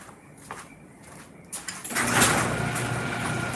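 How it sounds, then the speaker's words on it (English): A motorized garage door opening at a country home: a quiet start with faint outdoor sounds, then a rising mechanical rumble and rattle that grows louder and continues steadily. "Let me put up the garage door."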